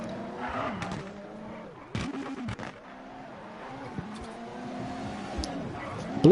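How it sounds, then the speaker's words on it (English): Ford Fiesta rally car with a three-cylinder EcoBoost engine in a WRC racing game, its revving engine droning steadily with sharp pops and bangs on the overrun and some tire skids. "Lovely pops and bangs coming from that Fiesta."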